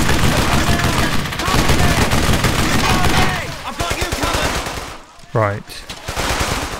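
Automatic weapon fire rattles in dense bursts through a World War II combat scene in the game Brothers in Arms: Hell's Highway, loud and continuous for several seconds before thinning out, with a short spoken word near the end.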